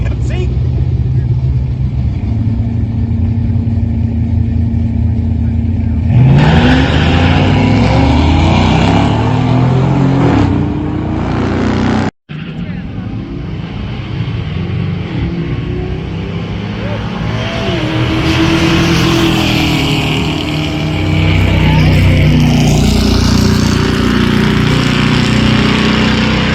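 A 1974 Plymouth Duster with a 360 and a 1961 GMC drag race side by side at a drag strip, their loud engines roaring and revving hard with a brief break, while someone talks over the noise.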